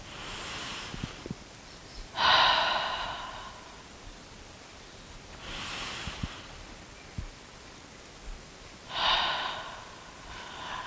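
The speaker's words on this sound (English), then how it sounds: "Deep breaths." Slow, deep breaths drawn and released while lying relaxed against a wall during Pilates, three long airy exhales spaced several seconds apart, close and soft with faint rustling between.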